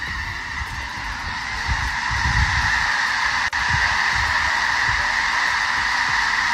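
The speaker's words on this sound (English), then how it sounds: "There are a lot of birds there." A large flock of geese honks continuously, a dense overlapping chorus that stays loud and steady throughout, with low rumbling noise underneath.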